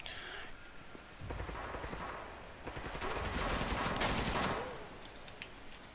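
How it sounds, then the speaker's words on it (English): Rapid bursts of gunfire crackle through a video game firefight as a squad takes heavy fire inside a house, the shots building into a dense, sustained volley midway before tapering off. "So taking heavy fire in the house though from C."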